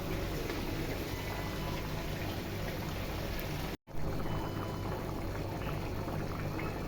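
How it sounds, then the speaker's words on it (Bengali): Fried bhetki fish pieces tipped into a simmering curry of kachur mukhi, giving a steady close sizzle and bubbling hiss that runs throughout with one brief dropout. "এখন মাছগুলো ঢেলে দিব।"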